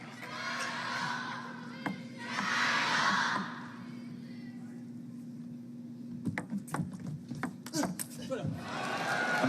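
Crowd at a table tennis match cheering and shouting in short bursts, with sharp ball and paddle clicks near the end, fairly faint and distant under a commentator's voice.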